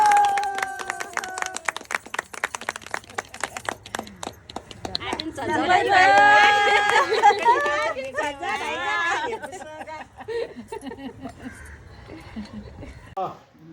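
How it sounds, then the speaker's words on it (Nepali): A group of people claps hands in scattered, uneven bursts mixed with lively chatter and voices, the claps sharp and close at first, then lost among crowd talk and cheering. "ल ताली बजाइदियो"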